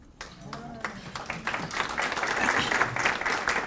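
Applause from an audience at a 2017 retirement dinner: scattered claps build into steady, fairly close clapping from many hands, growing louder toward the end, with faint voices underneath.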